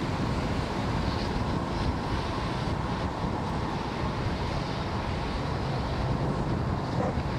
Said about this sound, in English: Merlin engines have throttled back up